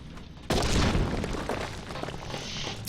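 A fire sand charge in a mine's powder chamber is set off by a plunger in the game Duty Found, bursting into one sudden loud boom followed by a rumbling, debris-filled decay.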